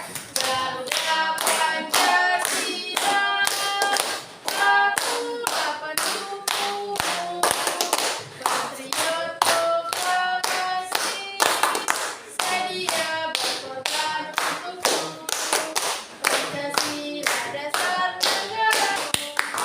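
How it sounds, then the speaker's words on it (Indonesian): A group of people clapping their hands in a steady, rhythmic beat, loud and close, continuing for about twenty seconds with no voices over it. "Tepuk tangan ya."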